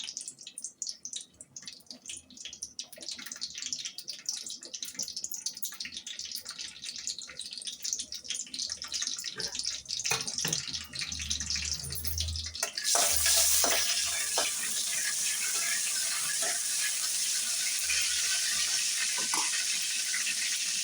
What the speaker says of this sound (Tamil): எண்ணெய் காய்ஞ்சிடுச்சு. சோம்பு போட்டுக்கலாம்.